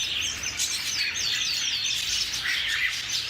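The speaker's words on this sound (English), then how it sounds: "here's a lot of green singing finches and lavender finches" Green singing finches and lavender finches chirp and twitter together in a bird store. The bright, overlapping calls are steady and close, with no talking.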